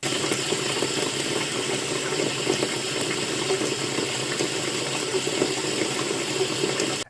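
Water runs steadily from a kitchen sink tap in a constant, close gushing stream that stops abruptly at the end, recorded on an LG V60 ThinQ phone with ASMR mode on.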